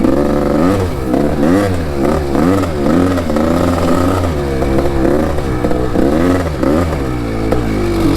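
An old motorcycle engine revs hard out on the road, its pitch swooping up and down in repeated throttle blips, loud and close with steady mechanical clatter and no voices.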